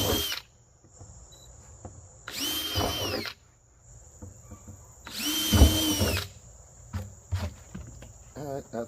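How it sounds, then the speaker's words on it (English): A power drill bores small drainage holes in a witch's cauldron, three loud whining bursts of a few seconds each separated by quieter pauses with light handling noise, close to the mic. "I'm going to drill a few small holes in here"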